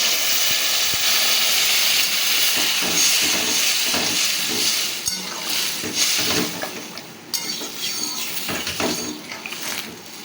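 Water poured into a hot pan of mixed vegetables for a Bengali mixed-vegetable curry, giving a loud, steady steamy hiss with bubbling that gradually settles and fluctuates over about ten seconds.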